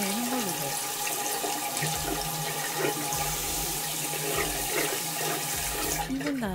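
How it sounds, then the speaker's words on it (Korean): Running tap water pours steadily over a makeup brush being rinsed in a sink, a continuous close splashing rush that barely changes across the whole stretch. "천천히 헹궈주세요."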